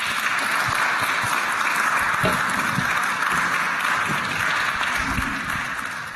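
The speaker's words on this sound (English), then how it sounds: "Again, a round of applause for our panel and our committees" Applause for a panel and committees at a temple gathering: a continuous roar of many hands clapping at moderate distance, steady and even, tapering slightly toward the end.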